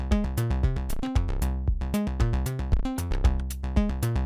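Modular-sounding 16th-note bass sequence from a free Max for Live device, a steady run of short plucked synth notes with shifting pitch and bright harmonic tops, driving and up front with nothing else in the mix.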